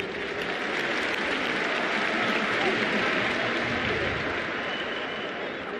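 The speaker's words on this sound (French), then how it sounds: "Ils méritent certainement nos applaudissements." Sustained applause from a large crowd at a public ceremony in Senegal, steady and fairly even throughout with a broad wash of clapping and crowd murmur, slightly distant and without a clear peak.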